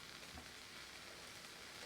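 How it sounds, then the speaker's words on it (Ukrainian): Steady, soft sizzling of cabbage and eggs frying in a covered pan, a continuous crackle with no voices. "накриваю кришкою і смажу її до 5 хвилин"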